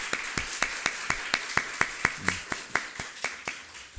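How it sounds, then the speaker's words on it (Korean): During a Sunday church service, a congregation claps in a steady, evenly spaced rhythm of about a dozen sharp claps over four seconds, moderately loud and fairly close. "힘찬 박수 부탁드립니다."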